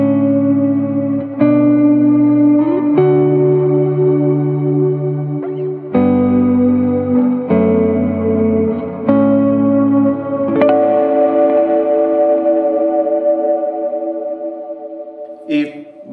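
Electric guitar chords run through two separate parallel effects pedals, loud and sustained with chorus, echo and heavy reverb tails, several strummed chords followed by a long ringing decay.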